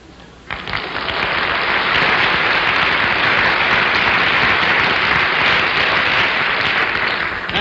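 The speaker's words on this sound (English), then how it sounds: "Did you like the applause?" Studio audience applause from a television game show, starting abruptly after a brief quiet moment and holding as a loud, dense, steady wash of clapping for about seven seconds.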